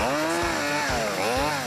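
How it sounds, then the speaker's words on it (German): A chainsaw revs hard to cut a Christmas tree, a Nordmann fir, its loud buzzing whine surging and dipping in three quick pulses as the blade bites into the wood, close and alone. "Jung, schmeiß die Kettensäge an und dann ran an das Grünzeug."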